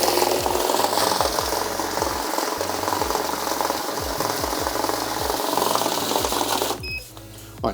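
A bill counting machine running through a large stack of one-dollar bills, a loud, steady, rapid mechanical whirring and flicking that stops abruptly near the end, leaving a quieter background.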